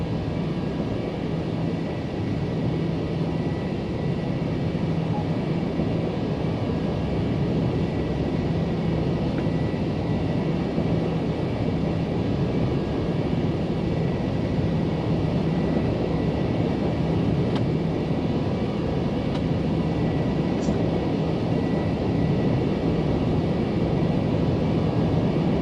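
Breitling DC-3 propeller airliner cruising low over downtown Manama, a steady, continuous engine drone with constant loudness throughout, no voices.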